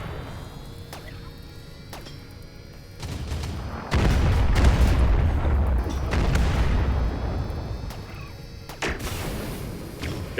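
A turret being destroyed in the Rimworld video game, a heavy booming crash that kicks in partway and rumbles on with impacts and whooshes, after a stretch of quieter scattered hits and clicks.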